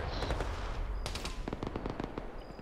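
Rapid bursts of automatic gunfire and single shots crack through a military shooter video game firefight, loud and close, with dense overlapping volleys and a faint voice-radio hum beneath.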